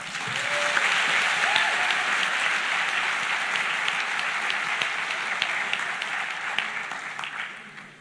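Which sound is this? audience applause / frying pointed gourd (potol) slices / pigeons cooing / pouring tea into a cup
audience applause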